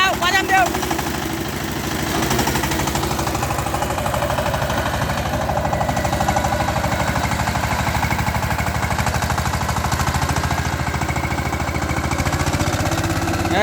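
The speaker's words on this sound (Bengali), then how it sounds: "দৌড়াও গাড়ি আরো স্পিড বাড়াও সমস্যা নাই ইঞ্জিনের ক্ষমতা আছে" Saiping 28 HP tractor engine running hard while cultivating a field, a loud, rapid, steady chugging knock that continues without a break from start to end.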